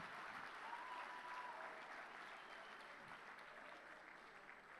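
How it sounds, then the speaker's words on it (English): Steady applause from a large audience at the closing ceremony of the ETHGlobal Istanbul 2023 hackathon, dense and sustained for several seconds at moderate level, with no talk over it. "give yourselves a massive round of applause for winning"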